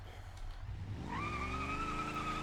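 A heavy old Dodge Coronet taxi in the BeamNG driving game revs up from a low engine rumble into a rising, strained whine, with tires faintly squealing and no voices.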